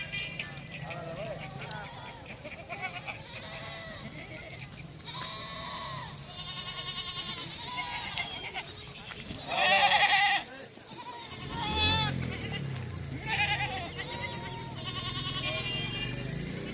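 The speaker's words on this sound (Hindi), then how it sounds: "100 बकरी खड़ी है" A large herd of goats kept for Bakrid in Pakistan bleats repeatedly, with many overlapping calls near and far. Someone talks through much of it, and a loud burst of bleating rises in the middle.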